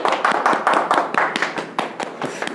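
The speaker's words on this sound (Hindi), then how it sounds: "एक ताली तो इस पर हो जाए।" An audience claps together at a Modicare product demonstration, the brief burst of hand claps steady and fairly close, running throughout with no speech over it.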